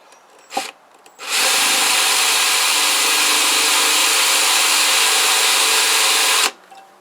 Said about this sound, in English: Right, so we're drilling with this one.